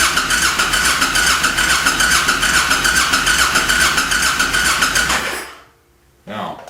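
A motorcycle starter cranks steadily for about five seconds with the fuel pump disconnected, a loud rapid whirring chug that never catches, then stops, with a brief noise after.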